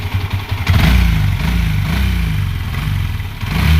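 A Yamaha Sniper 150 motorcycle engine idles after fuel system work, a steady close low rumble with a slight lift in revs near the start, loud and alone.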